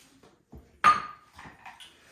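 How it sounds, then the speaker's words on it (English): A lid is set onto a Vitamix blender jar holding chicken, quinoa, fruit and coconut milk, making one sharp, close plastic clack with a short rattle after it, alone in a quiet kitchen. "Throw the lid on our Vitamix blender."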